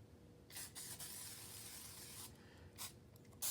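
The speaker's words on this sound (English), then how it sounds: "So I'm going to spray my rag a little." Short hissing bursts of aerosol furniture polish sprayed onto a rag, a longer one near the start and a couple more later, close by against a quiet room.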